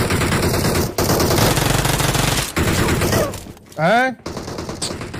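Rapid automatic gunfire in a shooting video game, loud sustained bursts broken by brief pauses, with a few short spoken interjections and a rising game tone near the end.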